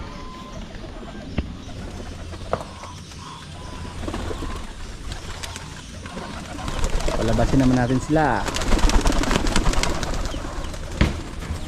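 Pigeons coo repeatedly in a backyard loft near a farm, soft and close, with someone talking over the birds throughout and brief clatter toward the end.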